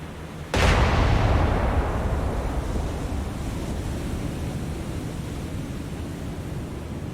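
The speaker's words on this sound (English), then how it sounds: "Alright, you're going to be firing armor piercing. Going to be doing a full salvo, spotting fire, fire the guns." War on the Sea naval guns fire a full armor-piercing salvo as one heavy, booming blast, followed by a long rumbling roar that slowly fades.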